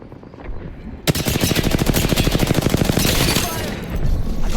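Rapid automatic gunfire in the Apex Legends video game bursts in after a second and runs continuously for about three seconds, loud and close, a fast regular stream of shots that tails off into game noise.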